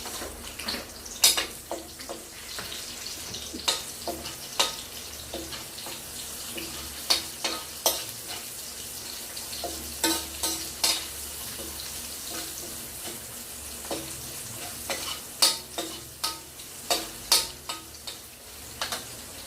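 Onions sautéing in a pan for pancit, a steady sizzle under frequent sharp scraping and stirring clicks from a utensil, close and continuous, with no talking.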